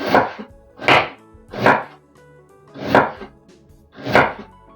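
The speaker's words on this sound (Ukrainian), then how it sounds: "мені треба нарізати довгенькими смужечками імбир" A knife chops fresh ginger into thin, long strips on a board, five sharp, evenly spaced cuts ringing out close and loud with no voices.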